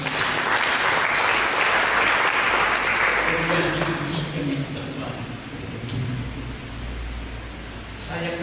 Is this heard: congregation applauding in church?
yes